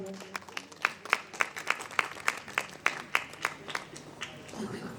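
Audience applause at a Christmas program and annual gathering, a steady crowd of clapping hands with sharp rhythmic claps standing out, fading toward the end, with some voices mixed in.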